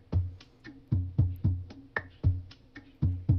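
A single percussion loop for a sample, built from crisp snap- and clap-like hits over short low thumps in a steady, mid-tempo pattern, close and alone with no voices.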